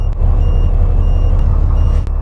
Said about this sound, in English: Yes, that's how the alarm beeps.